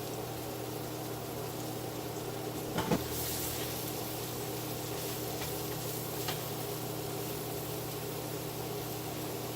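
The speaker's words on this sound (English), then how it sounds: "we are going to throw in our onions and mushrooms and get those cooking" Onions and mushrooms sautéing in a pan alongside steak: a steady, low hissing sizzle that holds evenly throughout, with a brief clatter near the start and faint kitchen background, no talk.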